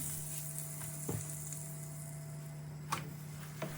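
Börek fries gently in melted butter and oil in a hot pan, a faint steady sizzle with a constant low hum beneath it and a couple of soft taps.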